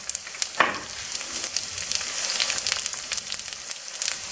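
Onion sizzling and crackling steadily in hot oil with black cumin and mustard seed, a close, continuous fry with sharp pops and small spits scattered throughout, no voices.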